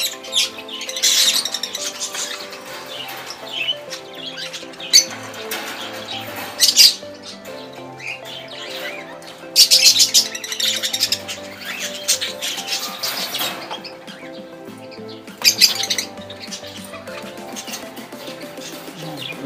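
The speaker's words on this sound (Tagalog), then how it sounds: "Marami-rami din yung ibon dito sa taas." Pet lovebirds kept up high give loud shrill squawks in repeated bursts over steady chirping and twittering, close by, with no talk.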